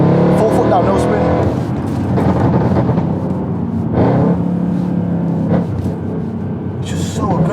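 A supercharged 750bhp Mercedes C63 pulls hard under full throttle, its engine roar loud and continuous with voices talking over it throughout.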